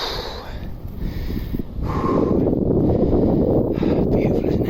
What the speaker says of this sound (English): The wind's in my face now, and it's getting hard